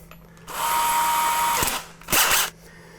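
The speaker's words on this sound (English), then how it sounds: "We're going to not use the hammer drill function, just the regular drill. We'll go on a relatively low speed." A cordless drill with a hammer-drill mode, set to plain drilling, runs at low speed in a shower remodel: a steady whining drone for about a second, then a brief pause, then a second shorter, louder burst.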